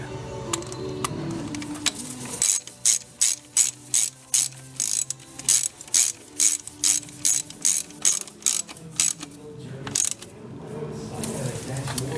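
A hand ratchet snugs the valve cover gasket bolts on a Toyota Corolla, a rapid run of crisp metallic clicks in quick, even bursts, close up, with faint speech near the start.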